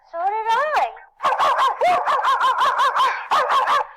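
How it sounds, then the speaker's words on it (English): A cartoon barking beetle yaps in quick, close, loud bursts: one short barking phrase, a pause, then a long rapid run of yips with a brief break, sounding animated rather than like a real dog. "May I interest you in this barking beetle? Let me guess, it barks?"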